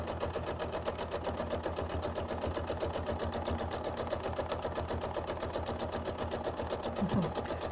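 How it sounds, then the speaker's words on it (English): A sewing machine runs steadily and continuously, stitching around the edge of a quilt-as-you-go block with a fast, even mechanical whir and rapid needle rhythm that never pauses. "I'm just going to stitch all the way around this"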